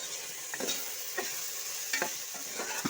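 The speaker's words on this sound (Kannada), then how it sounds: "1 ಟೇಬಲ್ ಸ್ಪೂನ್ ಚಿಲ್ಲಿ ಪೌಡರ್, ಧನಿಯಾ ಪೌಡರ್ ಹಾಗೆ ಗರಂ ಮಸಾಲ ಹಾಕಿ ಮಿಕ್ಸ್ ಮಾಡಿಕೊಳ್ಳಿ." Chili powder, coriander powder and garam masala are stirred into frying tomato bath in a pan, a steady close sizzle broken by several scraping spoon strokes.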